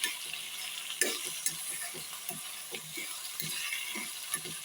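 Ingredients sauté in a pan over a medium gas flame, a soft continuous sizzle broken by repeated light scrapes and taps of a spoon stirring, fairly close and quiet, with no voices.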